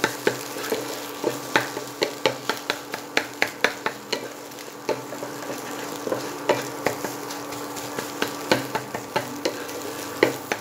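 An egg fries in a pan as it is stirred and smashed, a steady sizzle broken by regular sharp clicks and taps of a utensil against the pan, close and moderately loud.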